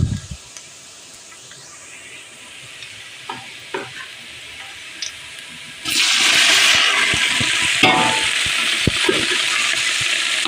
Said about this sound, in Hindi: आंच को थोड़ा कम करके इसके अंदर डाल देंगे कीमा जो हमने गला के रखा हुआ है